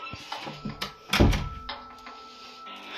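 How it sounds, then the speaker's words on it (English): A door slams shut in a Mario-themed horror video game, one solid thunk at about the middle of the clip, close and fairly loud over quiet game ambience. "no, I'm gonna shut the door."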